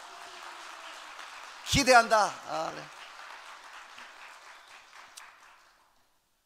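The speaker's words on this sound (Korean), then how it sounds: "다시 한번 우리 어린 친구들에게 박수!" Audience applause for children at a church Christmas celebration evening, a short burst of clapping that swells quickly and fades over a few seconds, with a voice speaking over the start and the end.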